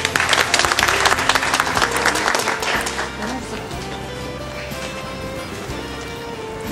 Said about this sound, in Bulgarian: Моля ви за аплодисменти.